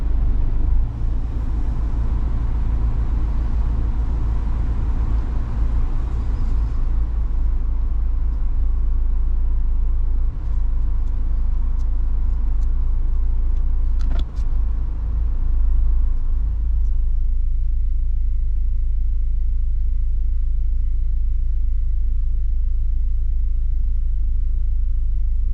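A 2015 Subaru Impreza Sport with a CVT idles in gear, giving a steady, loud low rumble that carries throughout, with a faint click partway through and the higher hum thinning out near the end.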